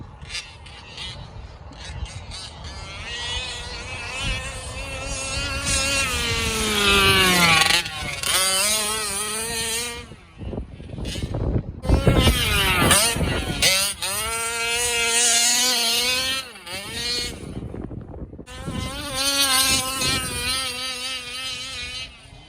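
A petrol engine of a 1/5-scale RC car with a new exhaust pipe revving hard, its buzzing exhaust note rising and falling in loud bursts, close by.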